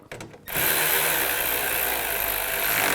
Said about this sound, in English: All right, now I'll tighten this up.